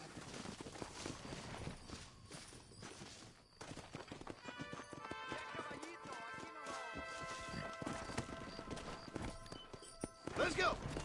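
Horse hooves clip-clopping in the Red Dead Redemption video game, a quiet, irregular run of hoofbeats beneath game music and spoken dialogue, rather faint and partly masked.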